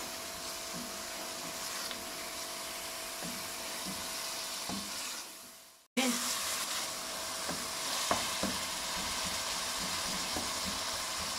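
Tomatoes frying in a pan for beef mince biryani, a steady close sizzle with occasional stirring knocks, briefly cut to silence midway before the frying resumes.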